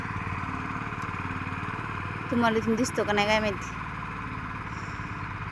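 A tractor engine chugs steadily in the background in a sugarcane field, a low rhythmic rumble, while a voice briefly speaks over it.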